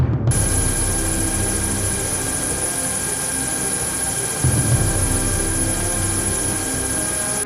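A Canadian military helicopter drones steadily overhead, its rotor thrum and engine whine continuous and loud throughout, with a brief surge partway through.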